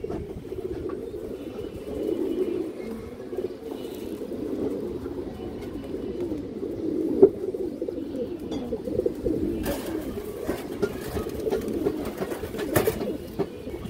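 Indian highflyer pigeons coo in soft, low, throaty rolls that keep going without a break, fairly faint and close, with a few light knocks and rustles mixed in.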